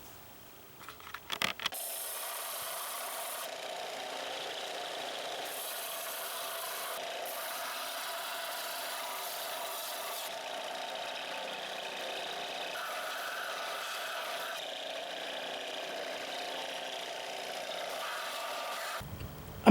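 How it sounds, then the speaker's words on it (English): Belt sander grinding the head of an old Eclipse hatchet, giving a continuous steady abrasive whir with slight shifts in pitch as the metal is pressed on. It runs for most of the time after a brief clattering start. "Now I'm going to take it to the belt sander,"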